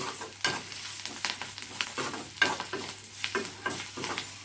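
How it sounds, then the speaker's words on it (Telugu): Tomatoes and gram flour fry in a pan with a steady sizzle, while a spoon scrapes and stirs in a quick repeated rhythm, close and alone with no talking. "టమాటాలు శనగపిండి అనమాట ఒక స్పూన్ వేసుకుంటున్నా పచ్చి వాసన పోయేంత వరకు వేయించుకోవాలి"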